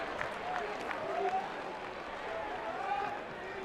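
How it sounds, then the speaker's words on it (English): A baseball crowd at a Tennessee versus Cincinnati game claps and chants in rhythmic bursts, heard at a distance beneath a commentator talking over it. "They know all the hand moves and chants and claps."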